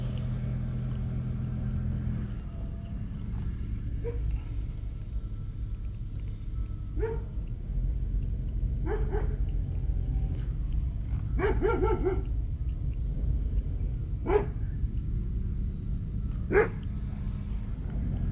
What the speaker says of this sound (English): You got your dog.